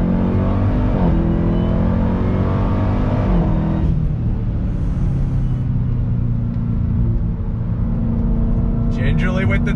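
A 2021 Dodge Durango Hellcat SUV accelerating under throttle, its engine a loud, steady roar that climbs in pitch, dips at a shift, then keeps building, heard close from inside the cabin.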